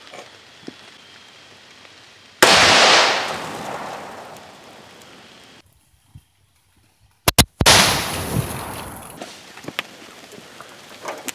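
A shotgun loaded with a giant nail fires at a can of starting fluid, giving a sudden loud blast that fades over a few seconds, then a quiet gap, two sharp cracks and another loud burst with a long decaying tail.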